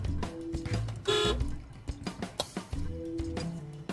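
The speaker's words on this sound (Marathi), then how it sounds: "त्या बाईने हॉर्न ऐकलाय" A car horn sounds from inside a vehicle during a driving lesson, first in a couple of short honks and then in a longer toot. Around the honks come close, uneven thumps and rustles, with muffled voices in places.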